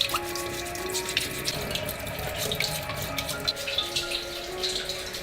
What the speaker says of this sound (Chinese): 拿个刷子把表面这些黑色的刷干净